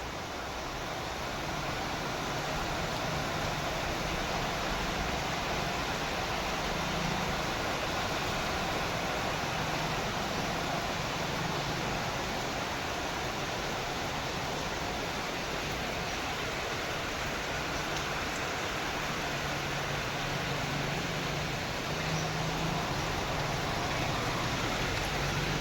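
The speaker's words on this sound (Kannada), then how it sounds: "ಕಂಟಿನ್ಯೂ ಹಾಗೆ ಮಳೆ ಆಗ್ತದೆ" Continuous heavy rain falls outdoors around Bijapur during a full day of downpour, a broad, steady roar of water that holds at the same level from start to finish, with no talking.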